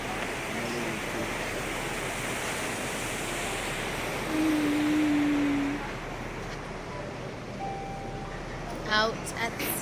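Ocean waves and wind rush steadily past a cruise ship out at sea as it leaves Florida. The broad, continuous wash is broken by a brief humming tone midway.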